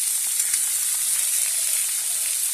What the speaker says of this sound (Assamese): এনেকৈ অলপ দেৰি ভাজিব।